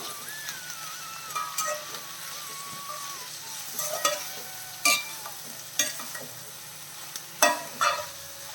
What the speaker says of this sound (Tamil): ரெண்டையும் சேர்த்து நல்லா சுவக்க வதக்கணும்.